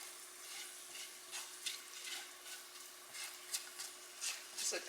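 Homemade tomato soup is stirred in a pot, a soft bubbling sizzle with repeated spoon scrapes and rubs that come and go in loose strokes, close and fairly quiet, with no talking.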